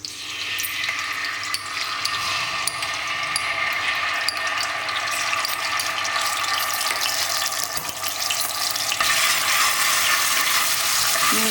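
Ginger garlic paste frying in hot ghee for a chicken curry, a loud continuous sizzle and crackle that holds steady throughout with faint scraping of a stirring spoon.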